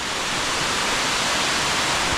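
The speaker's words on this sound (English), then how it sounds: "We're back at the 2 waterfalls that this trailhead gives you access to." A waterfall near Santa Ana, El Salvador roars with a constant, dense rush of falling water, loud and unbroken from start to finish.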